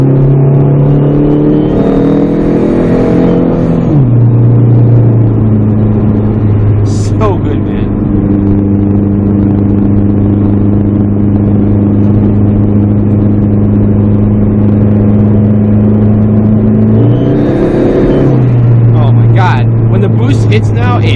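A PT Cruiser GT with a Mopar stage 1 tune, intake and exhaust, accelerates hard. The engine drone climbs in pitch through a gear, drops at the shift and climbs again, loud and close from inside the car.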